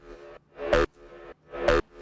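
A gritty techno stab from the Serum synth, built from wavetable oscillator A with FM modulation from oscillator B, with a detuned unison layer. It hits twice in an even rhythm, each short punchy burst loud and alone.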